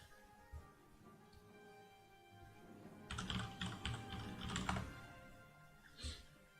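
Keys clatter on a computer keyboard in quick bursts, a faint tap or two early on, then a dense run of typing in the middle and one last short flurry near the end, with no talking.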